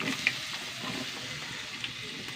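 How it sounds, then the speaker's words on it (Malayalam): Snake gourd hits browned onions frying in a pan, giving a soft, steady sizzle with faint stirring, quiet and without talk. "ഉള്ളിയൊക്കെ മൂത്ത് വന്നു. നമ്മൾ പടവലങ്ങ ഇട്ട് കൊടുക്കാം."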